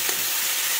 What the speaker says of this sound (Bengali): একটু হলুদ দিয়ে চিচিঙ্গাটাকে আমি সুন্দরভাবে ভাজবো।